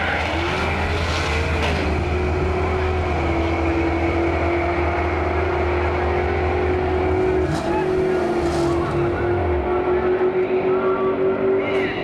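A 1999 SVT Cobra drag racing, a loud continuous engine roar with rising and shifting tones as it accelerates down the strip, heard through old low-quality recording with heavy background noise.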